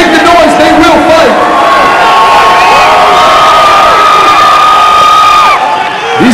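A loud, dense crowd roars and whoops continuously at a boxing fight, with shouting voices layered over a sustained wall of cheering close around.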